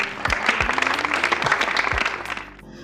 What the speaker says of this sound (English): Let's get a round of applause for that one.